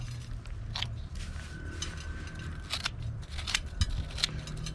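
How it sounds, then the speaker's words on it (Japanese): Scissors force their way through the hard, compacted root ball of a bonsai being repotted, giving repeated close crunching snips and crackles over a steady low background hum, with no speech. "こういう時はもうハサミで無理やり切るのもいいですね"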